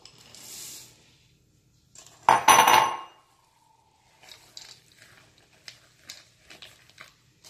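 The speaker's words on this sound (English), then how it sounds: "you want to mix your 2 cups of chocolate chips into your mixture" Two cups of chocolate chips go into cookie dough in a bowl: a loud clattering pour, then a run of light clinks and scrapes as the spoon stirs, each sound separated by short silences.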